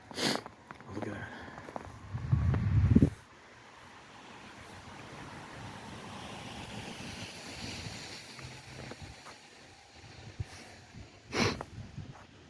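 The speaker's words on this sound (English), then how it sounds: "Sorry, I'm sniffling." A person walking outdoors in a Boston snowstorm gives a few sniffles, the loudest near the start, over steady wind noise buffeting the microphone.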